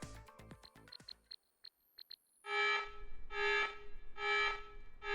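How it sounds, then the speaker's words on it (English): A security alarm blares in Digimon Story: Hacker's Memory, a repeating electronic tone in four evenly spaced pulses following some brief chiming game sounds. "The alarm! The security guards will be here soon."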